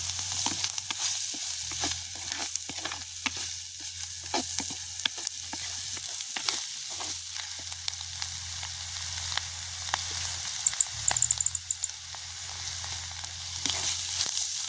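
Onions sauté in a pan for a prawn thokku with a continuous crackling sizzle, steady and close throughout, with scattered scrapes of stirring and no talking.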